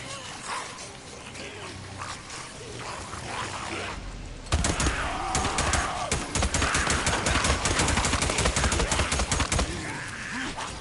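Rapid automatic gunfire in the Days Gone video game, a dense run of sharp shots fired in quick succession after a quieter stretch of game ambience, loud and close throughout.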